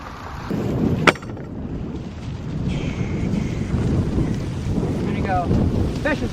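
Gusty wind blowing across an abandoned 1925 house roof during shingle work, a continuous rushing roar with one sharp knock near the start and faint squeaky tones later.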